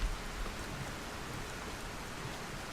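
Steady rain in the video game Zelda Breath of the Wild, a continuous soft hiss of falling drops with faint low rumble, heard alone.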